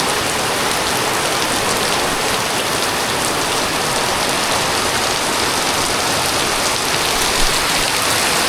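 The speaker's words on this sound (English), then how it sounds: "I don't know if it can rain any harder" Heavy rain pours down in a dense, steady roar, loud and unbroken throughout with no voices.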